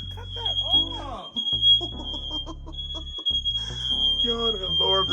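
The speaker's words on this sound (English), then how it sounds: "Yo, the alarm is going on." A smoke alarm sounds indoors during a fireworks prank, its shrill unbroken tone running the whole time beneath excited, overlapping talk and movement nearby.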